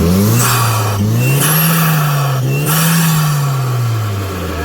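A GAZelle 3.3-litre V6 petrol engine revs loudly up and down close by, its pitch rising and falling in steady swells over a continuous roar.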